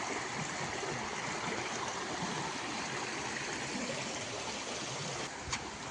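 Stream water flows after the monsoon near Tivare Gangechiwadi, a quiet, steady rushing and trickling heard from close by, alone, with a brief small knock near the end.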